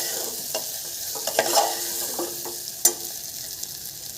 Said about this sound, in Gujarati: સારી રીતે એકવાર ચમચાની મદદથી હલાવી દઈશું